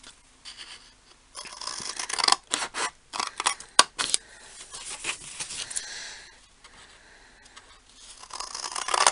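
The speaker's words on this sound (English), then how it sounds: "and then we're going to cut that corner off." Scissors snip through paper while cutting a corner off for a shadow box craft, a series of close, crisp cuts and rustles in uneven bursts with quiet gaps between.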